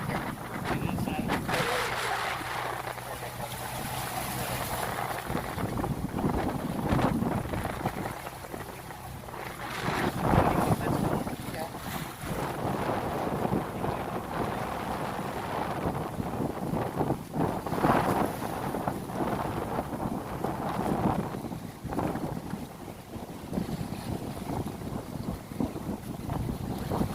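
Strong wind roars and buffets the microphone aboard a passenger motor boat pitching through waves about three metres high, with continuous loud rushing noise, splashing water and engine rumble throughout; faint voices occur beneath.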